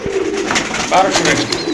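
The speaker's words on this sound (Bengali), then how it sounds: "কবুতরগুলো কিন্তু ফুললি ফ্রেশ দেখতে পাচ্ছেন" Pigeons coo close by, low throaty calls repeating under a voice as he talks about them.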